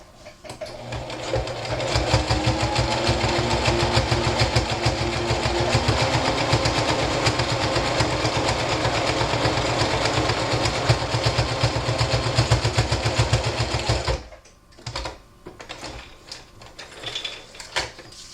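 A sewing machine runs a dense decorative stitch along a cotton face mask, its rapid steady mechanical chatter continuing loud and close for about fourteen seconds before stopping abruptly, followed by quieter handling noises.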